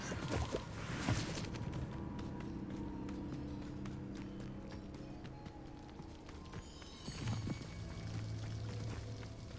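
Rushing waterfall in the video game Hogwarts Legacy, a steady broadband wash of falling water that fills the whole stretch, with a few soft thuds and clops rising briefly over it.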